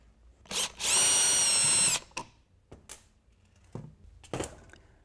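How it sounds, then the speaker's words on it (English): A power drill whirs for about a second while removing the mounting screws of a switch wall plate, followed by a few faint clicks and handling taps. "You can remove the mounting screws."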